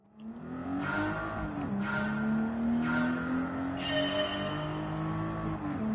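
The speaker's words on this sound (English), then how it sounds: "let's enjoy the noise this car makes" A 1988 Toyota Supra 3.0GT Turbo in a racing video game revs steadily and loudly, its pitch climbing and dropping through gear changes with faint tire noise, no voices.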